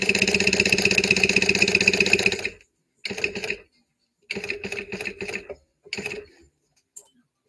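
A sewing machine stitches with a steady fast mechanical whir in one long run, then several shorter bursts separated by silent pauses, close and fairly loud.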